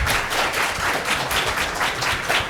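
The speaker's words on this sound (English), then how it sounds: "Round of applause, everybody" Audience at a fan convention panel applauds steadily, a dense, continuous wash of clapping from a crowd held at an even level throughout.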